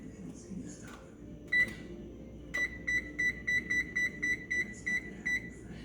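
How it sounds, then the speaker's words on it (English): An oven's control panel sounds one short beep, then a regular run of about ten evenly spaced electronic beeps as it is set to preheat to 400 degrees, with a faint murmur of room noise underneath. "So I'm preheating my oven to 400."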